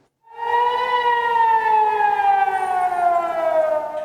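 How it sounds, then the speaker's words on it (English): A loud air raid siren in Israel, sounding during an Iranian attack, rises sharply and holds a long, steady wail that slowly sinks in pitch, sounding alone. "Sirens sounding across Israel as Iran launches an attack."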